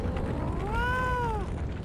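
A single drawn-out cat meow in the video game Postal 2, rising and falling over about a second, heard alone over a steady background hum of game ambience.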